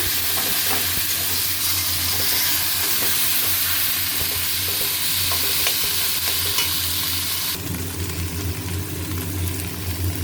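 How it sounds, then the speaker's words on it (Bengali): Boiled taro leaves (kochu shak) are stirred in a hot pan, with a continuous loud sizzle and hiss of steam under repeated scraping strokes, and the tone shifts slightly near the end. "কচু শাক কিন্তু এই নাড়তে অনেক সময় লাগে, একদম জল শুকাবে"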